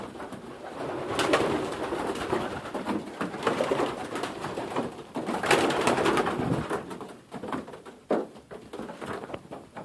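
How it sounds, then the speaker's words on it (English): Young pigeons coo steadily inside a loft, soft throaty calls layered with wing flutters and light scuffling, close and continuous with no talking. "This pigeon is from our tourneur that we got from Khan's loft"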